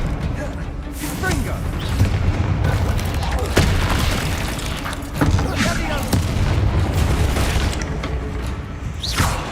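A Bombarda spell detonating in the video game Hogwarts Legacy, heavy booming blasts with sharp cracks repeating every second or two amid sustained loud battle noise, with speech partly over it.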